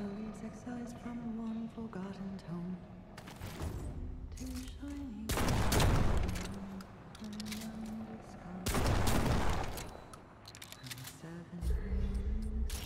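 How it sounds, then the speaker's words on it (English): Double-barrel shotgun blasts in the video game Remnant 2: two loud, broad bursts about three seconds apart, rising over a steady bed of game music and ambience. "Double barrel shotgun. Not bad."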